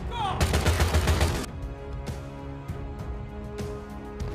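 A film scene of soldiers chasing a man into a forest carries a rapid burst of automatic gunfire, then several sharp single shots with ringing echoes. The shots are loud and close, set against a dramatic score.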